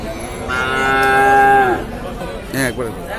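Crossbred cattle at a livestock market give a loud, drawn-out moo close by, followed by a shorter second call, with market background noise beneath.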